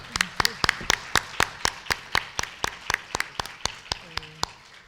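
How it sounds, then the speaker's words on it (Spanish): At a medical congress award presentation, sparse applause for a prize winner: a slow, even series of sharp, distinct claps, fairly quiet, with a faint voice near the end. "un aplauso para la ganadora."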